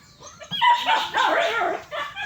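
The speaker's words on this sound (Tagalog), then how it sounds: "Ang tapang ang mga aso nyo." Dogs at a house in the countryside bark and yip continuously at close range, the noise swelling and dipping across the whole stretch.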